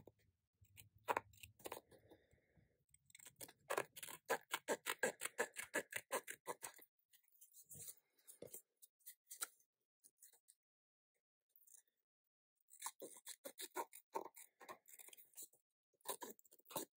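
Scissors trim paper in quick bursts of crisp snipping, with rapid rhythmic cuts clustered near the start and more scattered snips and short pauses later, close and clear in a quiet room.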